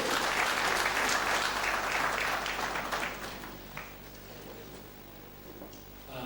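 Applause for Justin Harry at a Harare Innovation Fund launch event, a dense, steady wash of many hands clapping that gradually thins and fades toward the end.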